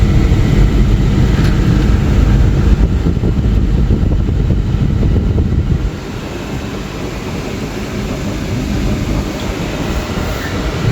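Loud, steady rumbling drone of a car engine fitted with a Holley Sniper EFI, running continuously after being restarted, heard from inside the vehicle with road-like roar that drops slightly partway through, no talking.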